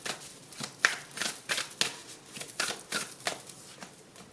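Oracle cards in a tarot-reading setting being shuffled and drawn, a steady run of close, crisp riffling and flicking bursts at a moderate, uneven rhythm, with no talking.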